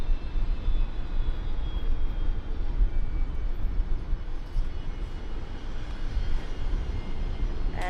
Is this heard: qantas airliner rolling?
yes